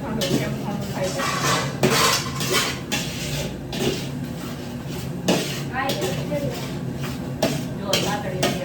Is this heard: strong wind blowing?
no